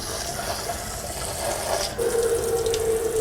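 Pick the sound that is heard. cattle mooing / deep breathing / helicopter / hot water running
hot water running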